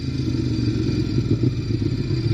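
A 2016 Ducati Monster 821 engine runs with the throttle held, producing a steady, close, low rumbling drone with a slight rough pulse throughout.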